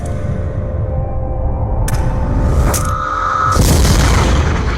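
A grenade explodes in a Call of Duty: Black Ops cutscene: a loud, low rumbling boom that swells steadily, cut through by sharp cracks and a brief high tone, ending in a broad burst of blast noise, with no voices.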